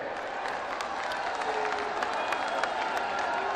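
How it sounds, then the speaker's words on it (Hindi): Large crowd at a BJP public gathering in Chhattisgarh addressed by PM Modi, giving dense, sustained applause with some cheering, loud and continuous throughout. "एक बार जोरदार तालियों के साथ आप सभी का स्वागत।"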